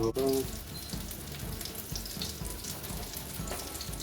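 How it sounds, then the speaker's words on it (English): Soft, steady crackling sizzle of fish frying in a pan, with a brief clank at the start and faint background noise. "The fish is starting to make that loud sizzle noise now"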